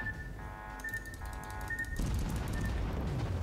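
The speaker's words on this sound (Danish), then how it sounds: "jeg nåede lige at få sendt nogle skud efter ham" Deep booming bursts of naval gunfire in World of Warships, a few heavy blasts over rumbling game noise, with no voices.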